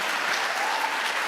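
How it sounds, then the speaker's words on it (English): An audience at a university media and communication research conference applauds an award-winning student, a brief, dense, steady burst of clapping from a full room. "Clap for that student."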